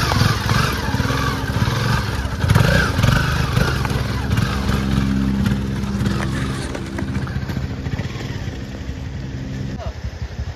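Motorcycle engines rumbling and revving nearby over a steady drone, with people talking intermittently underneath.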